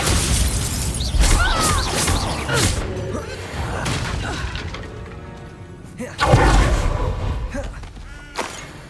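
Bombarda blast spell in Hogwarts Legacy, several loud crashing impacts with shattering debris and whooshes, a heavy boom near the end, close and punchy.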